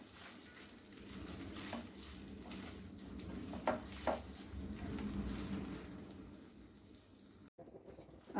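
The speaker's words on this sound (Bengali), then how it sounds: "এখন এই কাঁচা মশলাগুলোকেও তেলের মধ্যে আরও কিছুক্ষণ খুব ভালোভাবে কষিয়ে নিতে হবে" Raw spices, ginger and garlic sauté in hot oil for potato aloo dum, giving a steady, soft, close sizzle with occasional light clinks of stirring.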